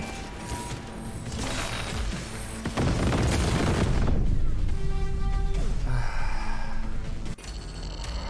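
Missile pack explosions in Cyberpunk 2077, a loud sustained barrage of booming blasts and mechanical clatter, with a heavier burst partway through and a sudden cut near the end.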